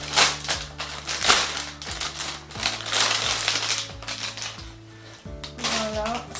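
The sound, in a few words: opening a Christmas gift sack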